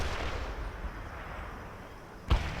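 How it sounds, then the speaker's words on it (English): A mortar strike lands in the war video game The Third World War: a single sharp, heavy boom near the end, over a low rumbling battlefield bed of distant noise. "Mortar strike completed. We hit hostile forces."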